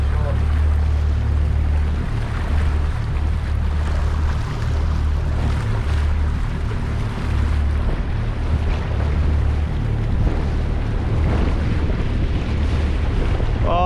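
Strong wind buffets the microphone aboard a boat on the remote open ocean while a fishing line is cast, a loud continuous rumble and rush with waves beneath and faint voices in the mix.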